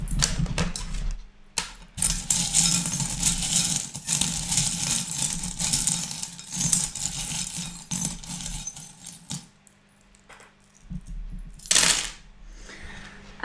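Small metal charms clink, rattle and tap as they are picked up and handled for a reading, a close run of light jangles with a pause and then a brief sharper burst near the end.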